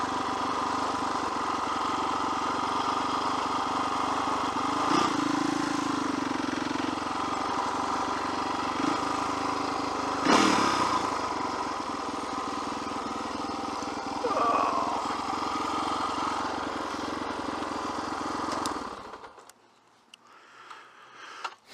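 A motorcycle engine runs steadily at idle with small rises in revs, close and loud throughout, then cuts off abruptly near the end, leaving near silence.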